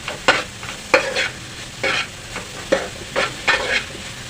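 Egg masala being stirred and sautéed in a pan, a spatula scraping in quick repeated strokes over a soft steady sizzle, close and fairly loud, no voices.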